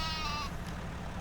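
A single sheep bleats once in a survival video game, a short wavering call heard clearly over low background noise.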